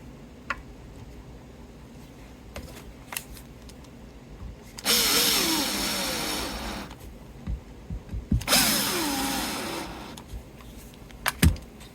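A power drill drives screws into a vintage Hondo UFO toy in two strong whirring bursts of a few seconds each, separated by quieter handling clicks and taps, close up.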